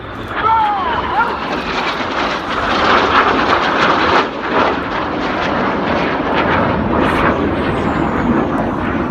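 Red Arrows jets passing at an air show, a loud roaring rush of engine noise that swells and sustains as they cross, with a commentator talking over it.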